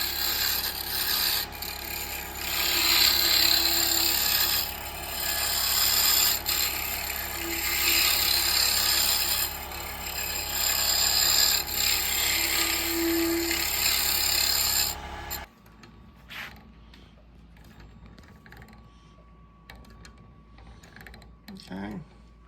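Carbide tool cutting a wooden Crush Grind peppermill on a lathe, a loud continuous rasping scrape with a steady motor hum for about fifteen seconds, then stopping abruptly and leaving a quiet room with faint handling noises.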